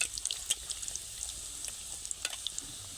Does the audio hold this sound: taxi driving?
no